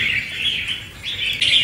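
A trapped wild red-whiskered bulbul chirps in a few bright, close, sustained whistling phrases with a short pause between them, heard alone without talk.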